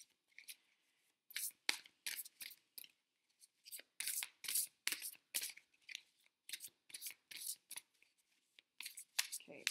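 Fairy Tarot and Angel Dreams Oracle cards being shuffled by hand, giving a string of close, crisp riffling and flicking bursts in an irregular rhythm with brief pauses between them.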